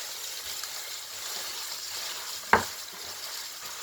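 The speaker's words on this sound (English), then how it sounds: "After cooking for like 1 minute, I will be adding right away my grounded meat. Yes, that is this beef sausage." Ground beef sausage sizzles steadily in a pan for lasagna, with a sharp clack of a utensil partway through.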